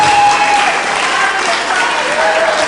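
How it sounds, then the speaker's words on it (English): Crowd clapping at a public event in Orewa, a loud, dense burst of applause that holds steady throughout, with some voices mixed in. "Come on, give us a clap for that."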